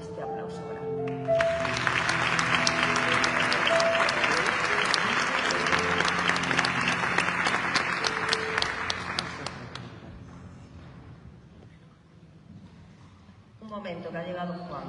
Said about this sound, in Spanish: a quien le dedicamos este aplauso grande